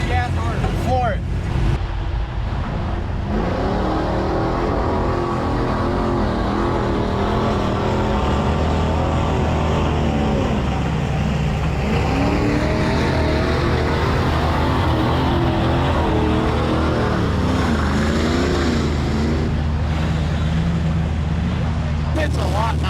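A truck or off-road vehicle floored in two-wheel drive through a mud pit at a Rednecks with Paychecks event, its engine roaring loudly and steadily throughout, with people talking and shouting over it.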